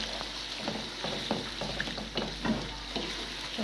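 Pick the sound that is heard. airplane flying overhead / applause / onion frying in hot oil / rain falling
onion frying in hot oil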